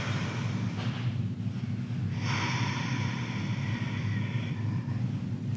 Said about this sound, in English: Two more big breaths in and out through the nose